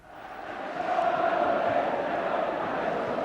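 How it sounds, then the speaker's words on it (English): A large football crowd fills Old Trafford stadium with a steady, distant roar that swells slightly and holds as a dense wash of voices. "An all-ticket crowd in a stadium where Manchester United keep faith with their fans."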